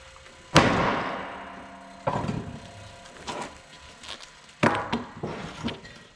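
Several sharp, heavy impacts with a cracking, splintering quality, spaced apart, as a battle axe blade strikes and shatters hard bone.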